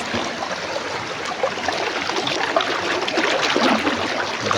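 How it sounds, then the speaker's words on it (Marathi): Steady rushing and burbling of a flowing village stream in Konkan, continuous and fairly loud, with no voices. "पाण्याचा आवाज आणि पाणी वाहते"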